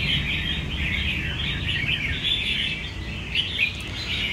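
A chào mào (red-whiskered bulbul) sings close by in a continuous stream of bright chirps and warbles over a low background hum.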